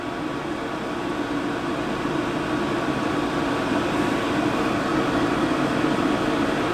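A hands-free pet dryer's blower whirs with a steady, loud rush of air that never changes pitch or volume, with no one speaking.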